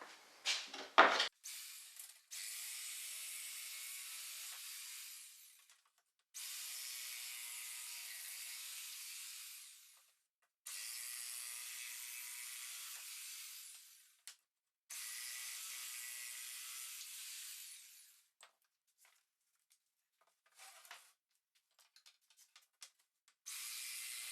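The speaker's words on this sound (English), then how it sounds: "I'm going to go ahead and cut them out with my jigsaw" Jigsaw cutting notches into a wooden board for an outdoor storage box, in four separate cuts of about four seconds each. The buzzing cuts are fairly quiet and separated by pauses, with a few knocks and handling sounds at the start and end.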